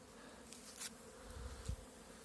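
Soft, continuous buzzing of many honeybees flying around hives in hot weather, a faint droning hum with occasional louder passes close by.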